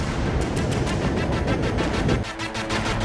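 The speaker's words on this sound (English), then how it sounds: "The sound of explosions," Rapid, heavy booming explosions roll continuously in a loud, dense barrage across the Ukrainian capital, echoing as if across open urban space, with no voices.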